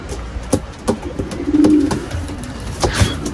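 Pigeons coo close by in a loft of Mulemans pigeons, a few soft throaty coos and a longer rolling coo in the middle, with light rustling and no talk.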